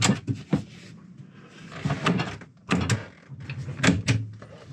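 Galley cabinet drawers on a boat slide open and shut several times, with close wooden rumbles and sharp knocks at irregular intervals, and no voices over them.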